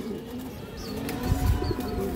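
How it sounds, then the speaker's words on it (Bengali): Baby pigeon squabs, still without feathers, kept in a home loft, give soft, low coos with a few faint chirps. The sound stays close and steady, with no talking over it. "এগুলো আমার ঘরের বাচ্চা কবুতর"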